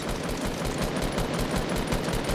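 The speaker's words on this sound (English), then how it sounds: "I shotgunned him and then sprayed him" Fortnite gunfire, with shotgun blasts and sprayed automatic fire, forms a dense, loud, continuous rattle of rapid shots throughout, with no talking.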